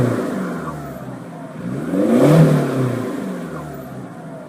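A decatted Ford engine revs up and falls back, swelling to a loud peak midway with a deep, throaty exhaust note and a light turbo whooshing sound over it.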